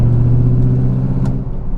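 A 1999 Pontiac Firebird Trans Am WS6, naturally aspirated, rumbling loud and close in a steady low engine drone with a slight wobble, no voices.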